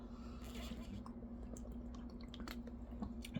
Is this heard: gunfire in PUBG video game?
no